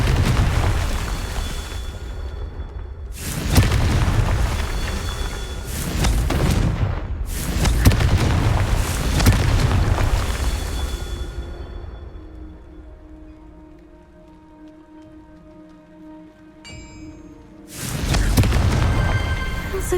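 Confringo fire spell explosions in Hogwarts Legacy outside the castle walls: several loud, heavy booming blasts in succession, each with a rumbling tail, a quieter lull with a ringing tone, then another sharp blast.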